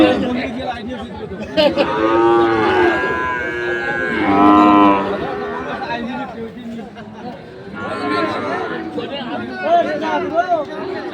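Sahiwal calves mooing at a busy livestock market, two drawn-out moos standing out near the start over constant crowd chatter and babble, with more bellowing later amid people talking.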